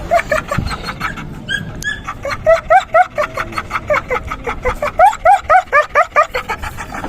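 A 10-month-old puppy yips and whimpers in a rapid run of high, squeaky cries, close by, with brief pauses between bursts.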